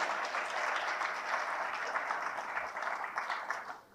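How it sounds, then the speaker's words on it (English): Sustained applause from an audience, a steady wash of clapping that holds for several seconds before starting to fade. "So please give them a round of applause as well"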